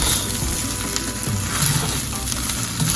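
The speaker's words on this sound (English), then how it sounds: "Hear that frying?" Shrimp fried rice sizzling and frying steadily in a hot pan, a constant crackling hiss with a few faint clinks, no voices.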